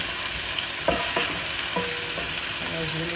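Onions and greens for ndolé fry gently in a pan, giving a constant soft sizzle with occasional utensil scrapes and light knocks as they are stirred.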